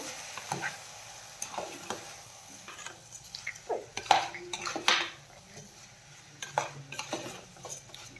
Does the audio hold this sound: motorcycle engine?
no